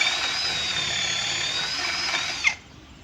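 A brushless Zippo power drill fitted with a flat spade bit whirs at a steady high pitch for a couple of seconds, then spins down abruptly and stops, leaving near silence.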